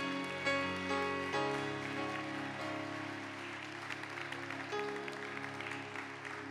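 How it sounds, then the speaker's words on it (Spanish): A church congregation applauds during a sermon, a steady patter of many hands spread through the room, mixed with sustained music and no clear talk. "Dele un fuerte aplauso a nuestro Rey."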